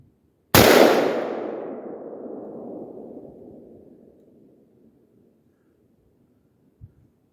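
A single loud AR-15 rifle shot fired one-handed at a 100-yard range cracks sharply and rolls into a long echoing decay lasting several seconds, followed by a faint knock near the end.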